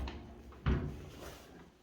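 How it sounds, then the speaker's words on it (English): The door of a 1948 GMC truck shuts with a single solid thunk, close by and followed by a short fading rattle. "like the sound these doors make when they close"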